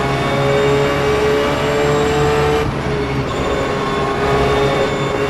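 Porsche 911 GT3 R race car in rFactor 2 at Adelaide, its engine a loud, steady high-pitched drone with a sustained whine that shifts pitch slightly midway, heard alone without talk.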